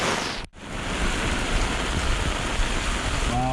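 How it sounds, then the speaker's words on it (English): Heavy rain during a lightning storm in Guadalupe, Colombia pours steadily in a dense, continuous rush, water sheeting off a roof, loud and close. "There's like a waterfall coming off of that person's roof."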